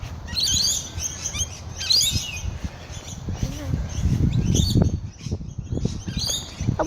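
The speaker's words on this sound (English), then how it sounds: "there is a lot of birds." A large flock of birds chirping and tweeting in a busy outdoor spot, the calls overlapping continuously with wing flutters, while people talk nearby throughout.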